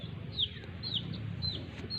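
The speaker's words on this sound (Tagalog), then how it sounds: "May mga manok pa doon." Chickens clucking on a farm, several short bright clucks and squawks repeating over a low murmur of farmyard background noise.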